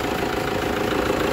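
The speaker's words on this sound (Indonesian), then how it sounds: "Inilah mesin Toyota Hilux Vigo dengan kode mesin 2KD" Toyota Hilux Vigo 4x4 with the 2KD 2500cc turbo diesel (VNT turbo, intercooler) idles steadily, a loud, even, continuous engine rumble with no voices over it.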